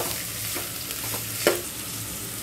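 Carrots and cabbage stir-fry in a hot pan for fried rice, a soft steady sizzle broken by scraping stirs and one sharper clink of a utensil against the pan.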